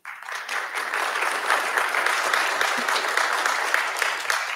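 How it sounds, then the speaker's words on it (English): An audience applauds at a concert, with a dense, even roll of clapping that starts abruptly and holds at a steady, fairly loud level throughout. "We'll applaud him."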